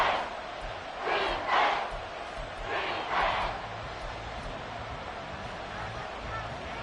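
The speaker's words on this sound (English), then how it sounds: "This crowd doing all they can." A home stadium crowd at an NFL football game involving the Chiefs roars in two swelling waves of cheering over a constant background of crowd noise, loud but somewhat distant.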